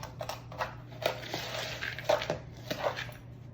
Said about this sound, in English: So just smashing the lumps out, mixing everything together.